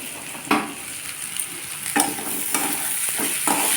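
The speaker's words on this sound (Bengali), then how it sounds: "একটু আলুটা ভাজা ভাজা করে মশলা দিয়ে দেবো" Potatoes frying in a pan, a steady close sizzle with a few sharp stirring scrapes and clatters of a utensil against the pan, no talking.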